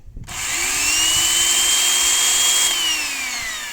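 A Vityaz BP 3150 electric chainsaw starts up and runs with a loud, steady motor whine that holds for several seconds and eases slightly near the end.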